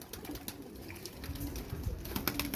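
Pigeons coo softly and repeatedly in a breeding loft where some birds sit on eggs, low throaty calls overlapping at close range with faint rustling and no talk.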